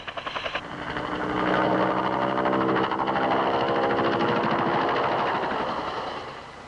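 A Huey Cobra attack helicopter with the standard 540 rotor and no stabilizer bar gives off a loud, steady rotor and turbine drone that swells up quickly and then holds, with no talking.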